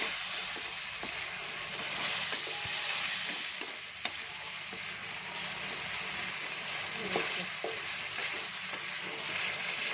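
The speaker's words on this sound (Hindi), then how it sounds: "आलू को भी भूनना है हमने।" Potatoes fry and sizzle in a pan for an aloo gobi curry, a steady close hiss with occasional scraping stirs and clinks, some faint speech in the background.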